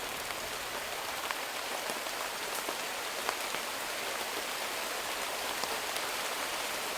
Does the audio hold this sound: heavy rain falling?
yes